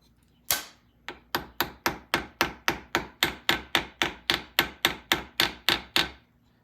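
A hammer taps raised metal back down on a motorcycle transmission part during reassembly, about seventeen sharp, evenly spaced strikes in a steady rhythm, close and clear with no talking.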